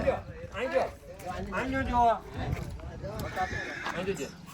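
A horse whinnies with shrill, wavering cries over overlapping human voices at a horse fair in Simar village, and faint hoof clops come through beneath the talk.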